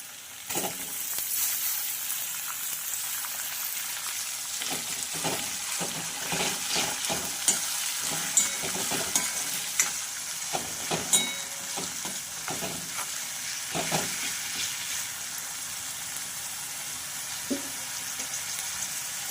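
Steady frying sizzle of chopped tomato cooking with pumpkin in a pan, broken by repeated scraping clicks of a spatula stirring throughout, with no talking.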